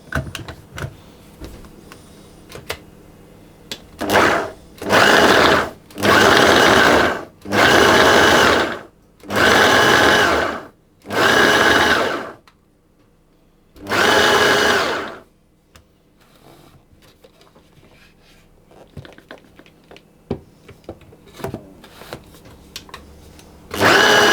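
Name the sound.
food processor pulsing butter into flour for crumble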